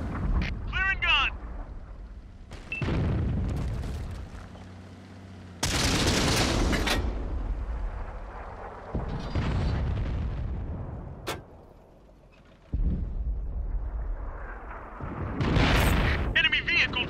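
Tank cannon blasts and explosions boom in World of Tanks as an enemy tank is destroyed, with heavy bursts separated by quieter rumbling stretches and voices heard between the blasts.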